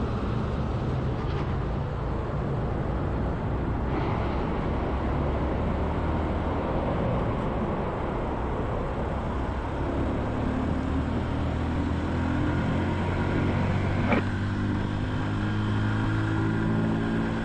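A Honda Super Cub motorcycle pulling at full throttle in 3rd gear, a continuous buzzing engine drone whose pitch climbs steadily as it accelerates, loud and close, with wind noise and no talking.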